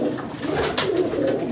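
A Teddy Salara pigeon coos in a soft, low, continuous murmur, close by and alone, with no voices over it.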